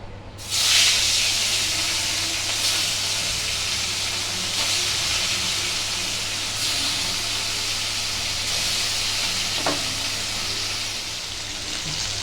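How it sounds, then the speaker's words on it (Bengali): Hilsa fish pieces frying in oil in a pan, a loud, constant hissing sizzle that starts abruptly and stays steady and close, with occasional small pops and a low background hum. "বাকি মাছগুলোকেও ভেজে নেব"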